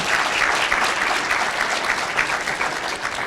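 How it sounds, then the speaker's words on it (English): An audience at a school of social work awards reception claps together in a dense, steady burst of applause that fills the room at close range, with no voices over it. "Please give our students a round of applause."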